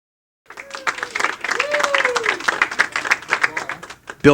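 Crowd applause at a televised Stars and Strikes bowling match: a dense, steady patter of clapping lasting several seconds, with a few voices and whoops rising through it before a louder burst at the end.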